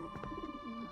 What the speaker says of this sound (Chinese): 你看见没有，窗外的那两只鸽子